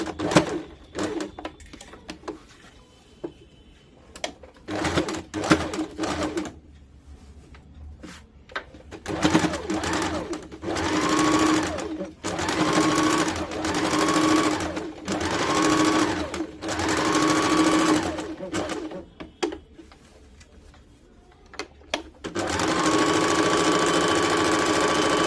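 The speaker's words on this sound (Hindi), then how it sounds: "अब दिए हुए दाग से इसको सिलाई कर लेंगे।" Electric sewing machine stitching a Katori cut blouse along marked lines, running in repeated bursts of fast whirring with brief pauses between runs, close and clear with no talking.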